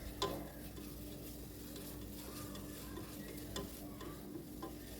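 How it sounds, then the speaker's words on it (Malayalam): Ginger, garlic and green chili paste sautéing in a pan for a prawn biryani, with a steady close sizzle and frying crackle, a few sharp clinks and stirring scrapes of a spoon against the pan, no talk. "ഒന്ന് വഴറ്റി കൊടുക്കുക"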